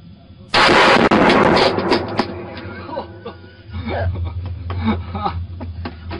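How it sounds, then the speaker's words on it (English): A gun loaded with buckshot is fired one-handed, one sudden, very loud blast that cuts off sharply and leaves a short rumbling tail, followed by excited voices and laughter. "put some buckshot in there and then shoot it one-handed"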